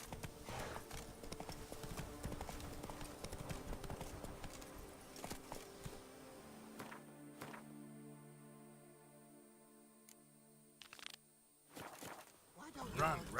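A horse named Roach moves along with rhythmic hoof clip-clops, steady at first, then fading into quieter intermittent steps over a low sustained tone.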